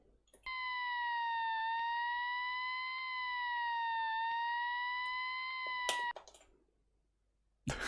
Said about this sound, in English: Okay, so siren.